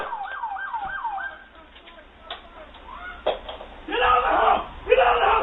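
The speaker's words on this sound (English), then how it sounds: "That's the sound of the police." Police siren wailing in a rising and falling pattern, faint at first, then a louder, harsher stretch toward the end, mixed with other noise.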